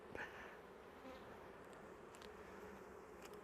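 Honeybees buzz around an opened hive box during an alcohol wash check, a faint, steady drone of a few insects close by, with light handling noises over the top.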